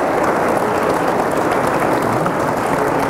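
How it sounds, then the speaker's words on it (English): An audience gives dense, continuous applause for conference panelists, loud and steady for the whole span with no voices on top. "Let's give a round of applause to Kevin Trenberth,"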